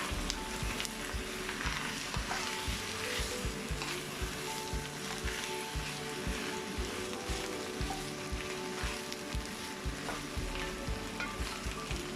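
Vegan chicken and courgette cubes sizzling in a pan for a curry while being stirred, a continuous close crackle with faint scraping, steady in level and free of talk.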